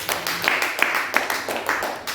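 A church congregation claps for Jesus in a quick, steady rhythm, many hands together close and lively, with no voices over the clapping.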